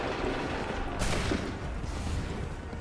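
Musket volleys crack out in a battle scene from the video game Assassin's Creed 3, with a loud burst of massed gunfire midway amid continuous rumbling battle noise.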